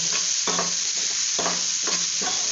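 Spinach stir-fries in a pan: a constant close sizzle with about five brisk, rhythmic scraping strokes of a spatula across the pan.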